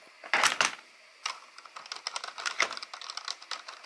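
A Logitech wireless keyboard clatters loudly under fast typing, a burst of heavy keystrokes followed by a steady, dense run of clicks up close.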